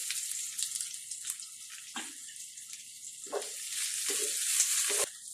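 Onion and garlic sauté in a hot pan until golden brown, a crackling sizzle that rises and falls with a few stirring scrapes, moderately quiet with no voices.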